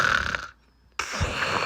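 A person imitates a dog snoring, giving a rough, wheezy snore that breaks off into brief silence and then resumes as another snorting breath, close and fairly loud.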